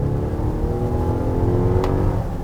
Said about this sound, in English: All right, I'm gonna floor it here.